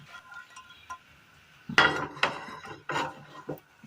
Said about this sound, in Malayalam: പാൻ അടുപ്പത്ത് വെച്ചതിന് ശേഷം ഒരൽപ്പം നെയ്യ് ഒഴിച്ചു കൊടുക്കാം. ഒന്ന് ചുറ്റിച്ചെടുക്കാം.